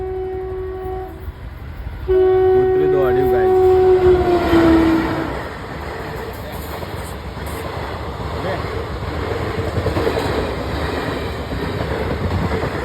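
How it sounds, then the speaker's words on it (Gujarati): A train passes with a long, loud horn blast lasting a few seconds, followed by the steady rumble and rattle of rail cars rolling by; people talk over the scene. "આવી ગઈ ટ્રેન."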